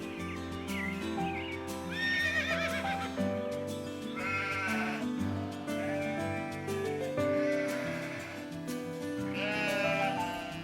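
Horses on a farm neigh and whinny repeatedly, several loud, wavering calls rising and falling over a low, steady background, close by and without speech.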